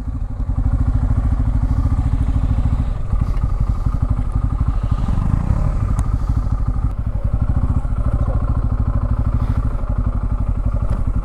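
A motorbike rides up to a tent with its engine running loud and close, a steady thrum with clattering thuds and crackles throughout.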